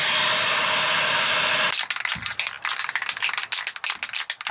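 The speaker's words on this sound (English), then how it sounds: "give it a good shake, especially if it's a new can" An aerosol spray paint can for refinishing interior trim panels is shaken after a steady hiss, a quick run of sharp, close, rhythmic rattles from the mixing ball inside.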